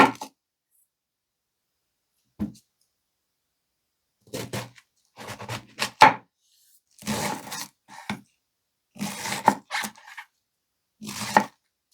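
Cabbage cut with a kitchen knife from a Coquus 15-piece block set: scattered crunchy chops on a board, isolated at first and then in short clustered bursts, close and fairly crisp, with quiet gaps between.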